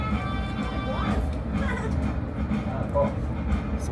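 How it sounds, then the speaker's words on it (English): A 100-year-old steam locomotive on a Florida excursion train rumbles steadily with low chugging and rattling, close and continuous, while a voice talks over it. "The cows are running away because of the sound of the steam engine."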